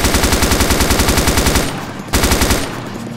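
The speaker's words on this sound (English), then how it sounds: "Aim down the sights, open fire on the targets." Rapid automatic gunfire from the military shooter ArmA 2: Operation Arrowhead crackles in steady, evenly spaced bursts, loud and close, with a brief pause before another rattling burst resumes.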